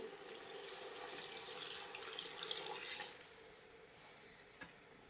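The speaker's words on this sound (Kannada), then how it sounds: "ಈಗ ನಮಗೆ ನೀರು ಎಷ್ಟು ಬೇಕೋ ಅಷ್ಟನ್ನು ನೀರನ್ನು ಸೇರಿಸ್ಕೊಳ್ತೀನಿ." Water poured into a pot of goat head and trotter mutton curry, a steady splashing pour that runs for about three seconds and then tails off into a few faint drips, with no talk.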